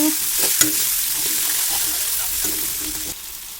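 Onion and spices frying hard in hot oil for chicken thukpa: a loud, steady hiss and sizzle that fills the clip, with a few clinks of stirring.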